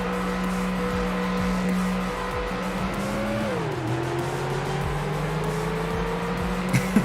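Several Ford Explorer race cars in the Ford Racing video game drone steadily, engines revving and shifting pitch as they race together, loud and continuous with no voices.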